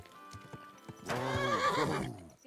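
A few hoof clops, then a loud, close horse neigh that wavers and fades over about a second, in the video game Kingdom Come: Deliverance 2.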